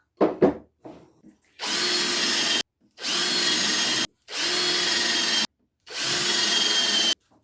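Power drill countersinking screw holes in wood legs for a tiered garden planter, four loud sustained whirring bursts of about a second each with short silent gaps between, close up, preceded by faint handling knocks.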